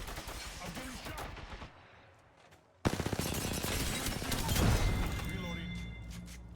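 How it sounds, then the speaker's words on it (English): Gunfire in Apex Legends, bursts of rapid automatic shots after a brief lull, loud and close, with a game voice announcer speaking over it. "I'm getting shot"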